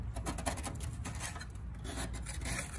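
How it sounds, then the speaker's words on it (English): A hand scraper rasps across a wooden deck in quick repeated strokes, a close, dry scratching texture with no talk. "if any of you guys get up on your decks and start scraping, you know that this takes some time"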